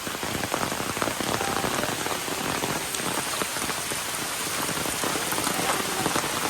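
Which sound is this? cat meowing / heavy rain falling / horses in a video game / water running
heavy rain falling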